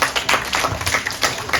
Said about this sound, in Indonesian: Tepuk tangan untuk Romo.